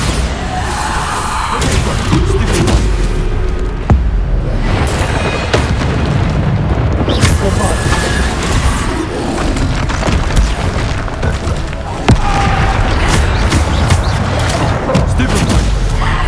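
Bombarda spell blasts in the video game Hogwarts Legacy, loud booming explosions recurring over a dense battle din, with voices shouting spell names in between.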